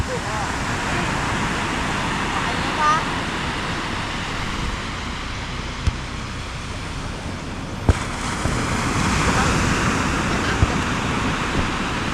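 Continuous roar of ocean surf breaking on a beach in a cove, broad and steady, with a few faint knocks and breezy rumble underneath.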